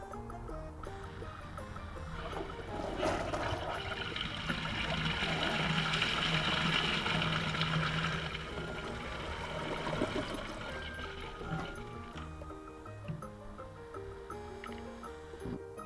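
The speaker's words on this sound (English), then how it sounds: "Flush 2." A second flush of a toilet bowl holding Lucky Charms cereal brings a close gurgling rush of water that swells, peaks midway, then tapers to a trickle, with no talking.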